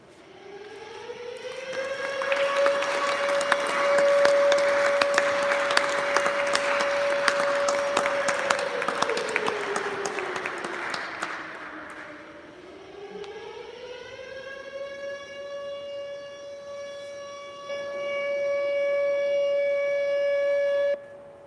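An air raid civil defense siren from the 1999 NATO bombing of Belgrade wails in a long steady tone, dips low and climbs back, while loud applause and crowd noise build beneath it before fading.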